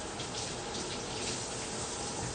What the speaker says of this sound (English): Rinse my hand real quick.